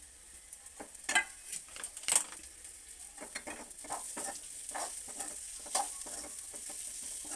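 Shallow-fried vegetables stirred with masala in a frying pan give a soft, steady sizzle with irregular spatula scrapes and light taps against the pan, fairly quiet and without speech.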